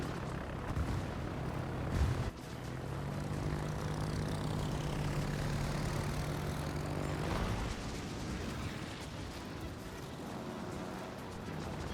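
Propeller engines of carrier aircraft (fighters, bombers and torpedo bombers) in World of Warships, a steady droning hum overhead with a muffled boom near the start, under game noise.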